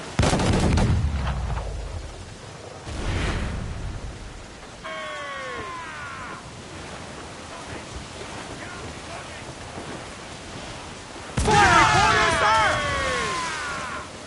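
Ship cannons firing in a naval battle in Assassin's Creed IV Black Flag, two heavy booming volleys with rumbling decay over wind and sea, crew shouting in between.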